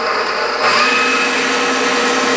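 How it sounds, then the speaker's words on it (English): An electric hand mixer runs steadily at high speed, beating cheesecake batter for a gingerbread cheesecake until it is foamy, a continuous whirring motor drone that grows slightly louder partway through. "I'll put the mixer on"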